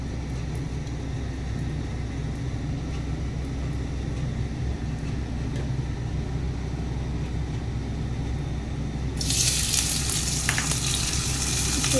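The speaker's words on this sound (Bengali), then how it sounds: "একটু পেঁয়াজ আর কাঁচা মাছগুলোকে আগে একটু লাল করে ভেজে নিতে হবে।" Onion and dry fish fry in oil in a wok, with a steady low sizzle and rumble that erupts into a loud, bright, crackling hiss for the last few seconds, no voices.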